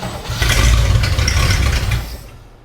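A 1961 Cadillac Deville, an abandoned project car, cranks and catches with a loud, steady low engine rumble, then fades away near the end.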